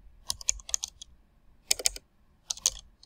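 Fingers type on a computer keyboard in three quick bursts of clicking keystrokes separated by brief pauses, close and fairly quiet with no talking.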